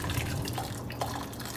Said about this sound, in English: I'm just going to pour some hot water in there